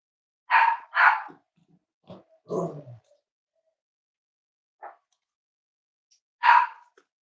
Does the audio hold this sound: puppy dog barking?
yes